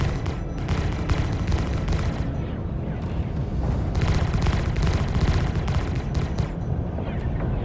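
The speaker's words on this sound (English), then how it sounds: "I got repeating cannons." Rapid repeating cannon fire from a spacecraft in the Star Citizen video game, a dense, continuous barrage of loud booming shots that keeps going for the whole stretch, with no speech over it.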